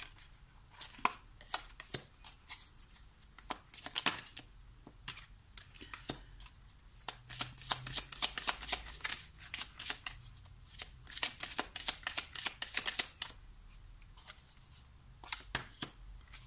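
Tarot cards being shuffled by hand, bursts of crisp riffling and slapping that come and go over a quiet room, close up with no talk.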